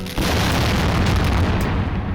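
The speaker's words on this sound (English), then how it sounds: "Your chances of survival if you're standing next to a firework containing 500 grams of black powder become a lot smaller." A large firework charged with black powder explodes in a deep, loud boom that rolls on as a sustained rumbling roar for about two seconds.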